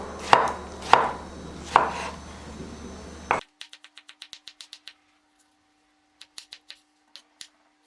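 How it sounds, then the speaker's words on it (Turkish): A knife chops peeled tomatoes on a board in a few slow, heavy strokes, followed by a quick, light run of rapid taps and then scattered small ones. "Şimdi burada soyduğum domatesleri doğrayacağım."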